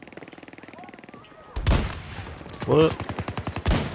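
Heavy gunfire in Battlefield 2042, with the DXR-1 sniper rifle in use: a rapid rattle of shots, then loud sharp blasts and a burst of repeated reports, with a voice speaking briefly in between.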